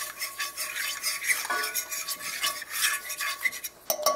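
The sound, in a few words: stirring flour roux for homemade gravy in a pan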